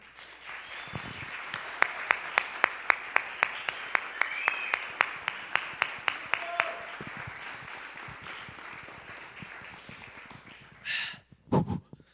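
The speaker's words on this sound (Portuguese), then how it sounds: "Vamos aplaudir o Léo?" Applause from a church congregation, dense clapping with some sharper individual claps, going on steadily for several seconds before tapering off into a few brief noises.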